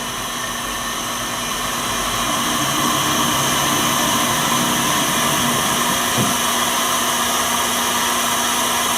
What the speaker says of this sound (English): Grinding away